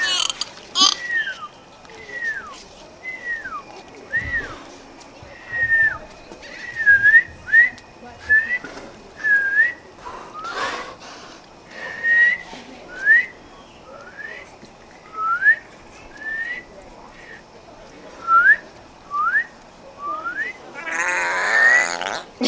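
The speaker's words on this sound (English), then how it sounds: "he can make sounds and whistle to them. He's whistling at them." A string of short, high, rising whistles repeats at a steady pace, punctuated by faint clicks and rattling noises.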